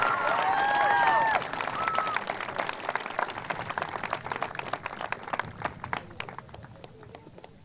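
A high school graduation crowd applauds Eagle Award recipients, cheering and whooping at first, then continuing with sustained clapping that slowly thins and fades.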